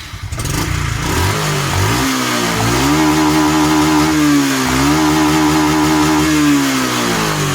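A fuel-injected motorcycle engine is revved slowly up to full throttle and held there, with a faulty throttle position sensor; the loud, close engine climbs in pitch, dips briefly, then climbs and holds a high steady whine.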